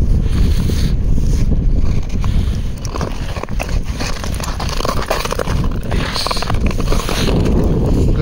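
Strong wind buffets the microphone on a frozen lake during a long-distance ice-skating trip in about -7 degrees, a loud continuous roaring rumble with gusty swells throughout.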